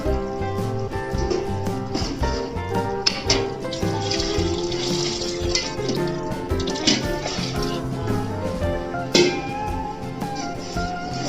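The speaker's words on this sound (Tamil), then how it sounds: "8 டம்ளர் தண்ணி ஊற்ற போகிறேங்க." Water poured steadily into a pot for chicken biryani, a continuous close splashing and gurgling stream with a few louder sloshes, lasting the whole stretch with no talking.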